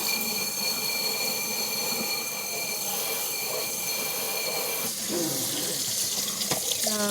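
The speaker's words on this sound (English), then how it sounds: "I'm actually just going to use the sprayer to quickly spray it off." Water sprays steadily from a sink sprayer rinsing a glass cup, a continuous hissing rush with some clattering near the end.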